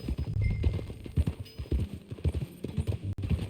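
Steady clip-clop of horse hooves while riding in the video game Red Dead Redemption 2, a quick rhythmic trot at moderate volume with a faint background hum and no speech.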